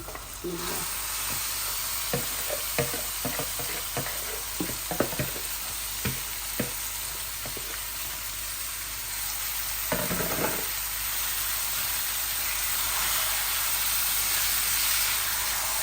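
Chicken feet added to half-cooked onions frying in a pan, a dense steady sizzle with scattered clicks and scrapes early on, one louder stir partway through, then a smooth rising hiss, close and even, no one speaking.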